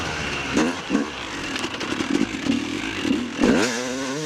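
A KTM 250SX two-stroke dirt bike, fitted with a weaker power valve spring, sputters and blips in slick mud, with short uneven revs and clatter ending in a falling, dying engine note.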